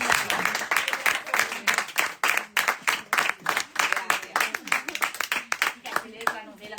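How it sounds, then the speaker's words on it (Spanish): An audience at a book presentation applauds in rhythmic, fairly close clapping that is dense and steady before tapering off, with faint voices mixed in. "un aplauso, porque no pasa cada día"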